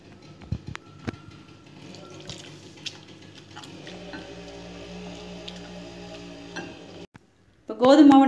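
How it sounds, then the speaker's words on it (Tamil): Wheat flour batter is mixed with water in a bowl, giving soft, faint wet stirring and squishing with light clinks, ending with a sudden louder burst. "கோதுமை மாவு நல்லா இப்படி தண்ணியாட்டு கரைச்சி வச்சுக்கோங்க."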